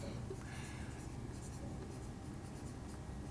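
A pen scratches across paper while math is written out, soft continuous strokes close by under a faint background hum.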